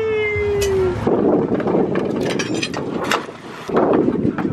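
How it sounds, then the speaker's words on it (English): Wind rushes steadily across a sailboat at sea, a broad airy roar with gusts swelling and easing, a brief whistling tone at the start and occasional bumps on the microphone. "It's a little bit of wind"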